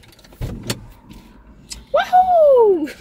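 A car door handle clicks and the door opens after a reverse bay parking manoeuvre during a driving lesson. Sharp knocks come first, followed by a loud, close creaking and whirring sweep.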